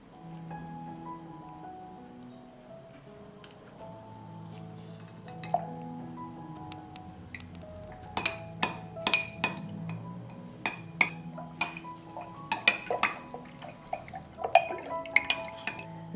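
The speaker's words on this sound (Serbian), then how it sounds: "2 supene kašike razmutit ću u 700 ml vode" A spoon stirs two tablespoons of slaked lime powder into 700 ml of water, starting with a soft swirl and turning into repeated sharp clinks and taps against the container, close and moderately loud.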